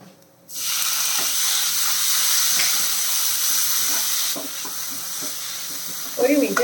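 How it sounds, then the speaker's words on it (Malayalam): Chopped tomatoes hit hot oil with shallots in a pan, bursting into a loud steady sizzle that drops in level partway through, with light stirring scrapes and a brief clatter at the end. "തക്കാളി ഇതുപോലെ ഒന്ന് വഴറ്റിയേക്കാം"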